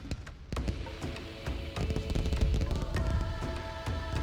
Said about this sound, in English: That's a proper fireworks display.